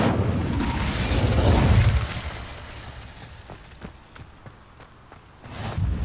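Incendio fire spell cast in Hogwarts Legacy: a loud whooshing burst of flame that fades out, followed by scattered light taps and a closing rush of sound, with no speech.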